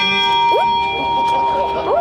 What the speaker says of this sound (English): Oh, there goes the bell.